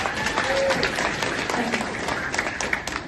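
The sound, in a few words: audience applause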